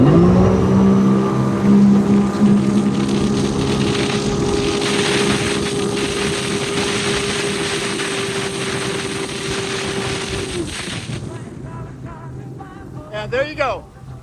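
A Sea-Doo GTX Limited 300 personal watercraft accelerates hard in sport mode with a loud, steady engine roar that holds for about ten seconds and then fades, leaving wind and water noise.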